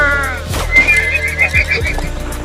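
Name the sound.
horses neighing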